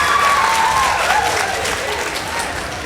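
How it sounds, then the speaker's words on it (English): Applause from an audience at a school debate between Moi Forces Lanet and Ndururumo High School, for both teams on stage. Steady, dense clapping fills the hall throughout and eases off slightly toward the end, with a faint crowd murmur underneath. "A round of applause to both teams on stage."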